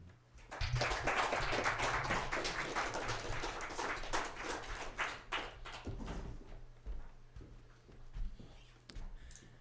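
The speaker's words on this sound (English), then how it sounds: "Why don't you give a rousing applause and welcome Brian Oberlin." An audience welcoming Brian Oberlin breaks into applause, a dense wash of clapping that swells early, then thins into scattered claps and murmurs with faint voices.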